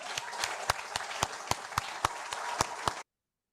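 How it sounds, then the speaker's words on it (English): Applause for a surprised award recipient at a workplace safety event, a dense patter of clapping with a few sharper individual claps standing out, steady for about three seconds before stopping abruptly. "Let's give him a big round of applause."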